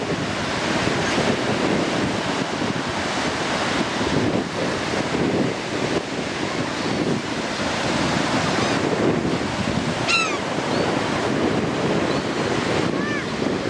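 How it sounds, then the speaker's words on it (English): Steady roar of ocean surf with waves washing in, heavy wind buffeting the microphone throughout, and a few faint bird calls on top. "Here's ES doing his body surfing"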